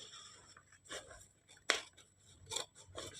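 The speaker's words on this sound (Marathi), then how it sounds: "हे बघा कटिंग करून घेत आहे मी गोल गळा अशा प्रकारे." Scissors cutting a round neckline into blouse fabric, quiet and close, with a handful of separate crisp snips and soft rustling of cloth between them.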